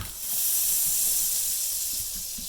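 Butter hisses steadily on a hot pan, a soft continuous steaming sizzle, close and even, with no voices.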